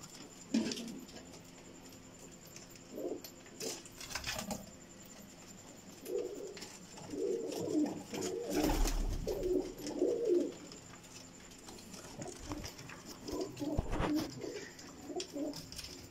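Pigeons on a rooftop loft coo in soft, low bursts with a few wing flaps and patters, moderately close, with no talking over them.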